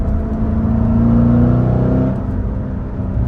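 A Corvette V8 exhaust with an off-road X pipe burbles loudly with a rising, steady rev, then eases off to a lower rumble near the end.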